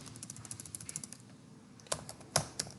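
Quick, light keystrokes on a computer keyboard, a faint irregular patter of clicks with a few sharper taps near the end, close and alone.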